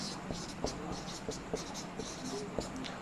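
Chalk or marker writing on a board during a maths lesson on relations and functions gives soft, regular taps and short scratchy strokes, faint under a quiet room hum.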